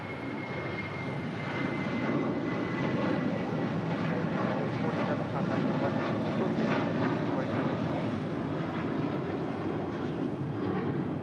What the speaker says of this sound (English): That was United Airlines flight 1647 heading to Denver in the 737-800.